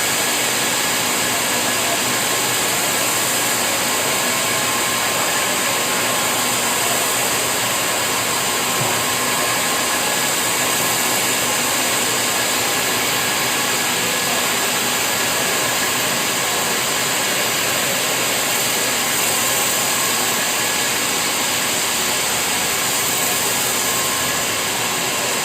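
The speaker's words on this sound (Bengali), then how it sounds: "এরকম অনেকগুলো মেশিন আছে আমাদের এই ফ্লোরে।" Machinery on a natural-fiber yarn factory floor runs in a loud, steady whir and hum that holds without a break, with no voices over it.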